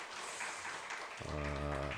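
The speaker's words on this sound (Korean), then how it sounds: "아주 잘 읽어준 우리 사랑하는 아들에게 한번 박수 한번 좀 여러분들 해주시기 바랍니다." A church congregation applauding in a dense, fairly quiet wash of clapping; partway through, a sustained, steady tone rises over it.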